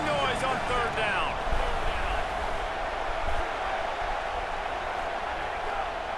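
Stadium crowd noise on third down in a college football video game, a dense continuous roar of fans, loud and sustained, with brief whistling tones early on and commentary talking over it.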